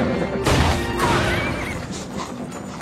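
A horse in a wilderness film scene whinnies loudly and close, with hoof clatter and a crash-like thud mixed in, sounding alone with no talk.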